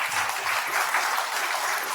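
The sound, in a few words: seminar audience applause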